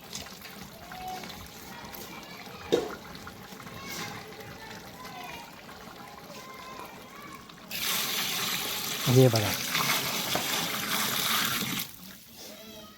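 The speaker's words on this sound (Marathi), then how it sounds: "यात आपण आता 2 भगोने पाणी टाकून देऊ." A large pot of water is poured into a big pot of chicken biryani for fifty people, making a loud, steady rushing pour that lasts several seconds after brief talking.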